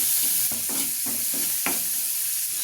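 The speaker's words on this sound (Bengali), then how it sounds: "ভালো করে ভেজে নিব।" Shrimp frying in a pan with black cumin seeds, fenugreek, green chilli, salt and turmeric, a loud steady sizzle broken by several rhythmic scraping stirs of a spatula, close up with no talk.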